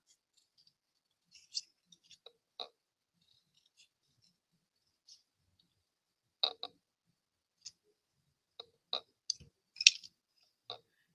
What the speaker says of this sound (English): I think my other scissors are just dull